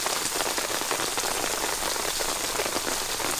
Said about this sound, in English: because it's raining this bad